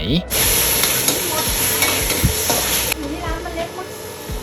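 Crab fried rice is stir-fried in a pan at a traditional-style fried rice shop: a loud, close sizzle carries repeated clanks and scrapes of the spatula, easing slightly toward the end.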